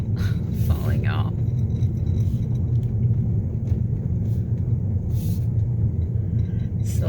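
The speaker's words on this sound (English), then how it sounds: "And I'm just driving in now." Inside a moving car on an autumn drive, a steady low engine and road rumble continues throughout with a muffled voice present.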